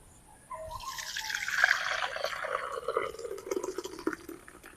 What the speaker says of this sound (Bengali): এবার আমি ভাঁড়ের মধ্যে দুধটা ঢেলে দেবো